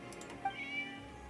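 A small cat-like critter in Genshin Impact meows once, a brief, fairly faint in-game cry over quiet background game audio.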